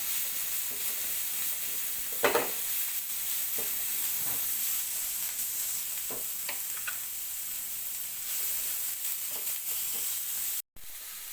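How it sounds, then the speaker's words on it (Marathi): Onion being sautéed in a pan for a fenugreek dal bhaji, a steady close sizzle with intermittent scraping stir strokes, without any talking. "त्याच्यामध्ये हा कांदा कांदा थोडा परतून घेऊया"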